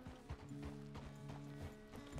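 Horse hooves clip-clopping at a walk in the Red Dead Redemption 2 game, a steady rhythmic series of fairly close hoofbeats over a low, continuous background hum.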